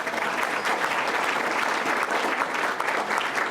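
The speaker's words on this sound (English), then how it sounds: "Round of applause." An audience at a Chicago forum on social services applauds the incoming moderator, a dense, even wash of clapping from a large crowd, loud and sustained, with no voices over it.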